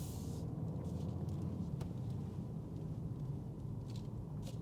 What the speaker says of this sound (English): I'm just pulling around a little cul-de-sac right now, doing a heavy turn